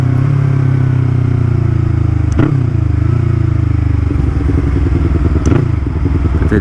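A Yamaha MT-03 motorcycle fitted with a full Akrapovic exhaust, heard close and loud while riding, with a deep, throbbing exhaust drone, brief throttle blips and shifts around the middle and end, and crackling pops on deceleration.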